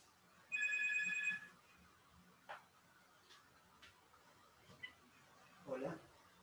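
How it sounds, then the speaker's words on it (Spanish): A telephone ringtone sounds in a quiet room during an online class, a short electronic ring burst near the start followed by faint scattered noises. "que no suena el teléfono"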